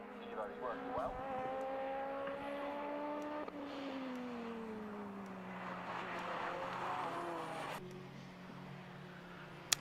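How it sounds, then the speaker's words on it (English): Vauxhall Astra race car at Knockhill circuit, engine tone falling as it passes and shifts, distant and faint, accompanied by talking throughout. "So watching the Martin Henry Vauxhall Astra"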